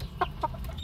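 Shamo gamecock stags about four months old in a small backyard pen, giving two or three short soft clucks over a low background hum.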